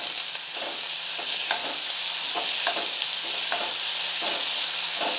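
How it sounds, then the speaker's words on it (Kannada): Onions fry in a pan for onion paratha, a soft steady sizzle broken by regular spatula strokes that scrape at an even rhythm, fairly quiet and close. "ಈಗ ನೋಡ್ರಿ ಉಳ್ಳಾಗಡ್ಡಿ ಫ್ರೈ ಆಗ್ಯಾವು."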